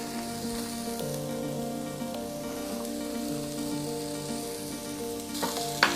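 Red onions sizzling in a stir-fry pan for pepper steak, a steady close crackling fry with occasional stirring clinks and a brief utensil knock at the end.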